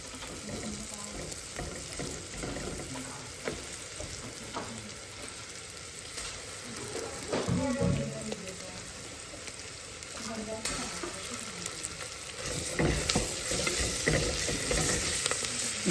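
Ginger garlic paste fries with onions in a pan for Nellore-style katte pongal, giving a steady low sizzle broken by scraping stirs and brief clatters that grow busier toward the end, with no talking.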